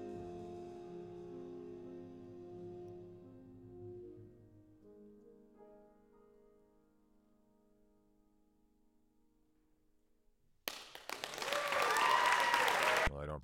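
Recorded applause plays in a Logic Pro session, a burst of loud, dense clapping near the end that follows a fading tonal passage and quiet stretch.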